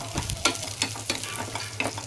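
Ingredients frying in ghee in a pan for payasam, with a steady low sizzle under repeated stirring scrapes roughly every half second, close and moderately loud.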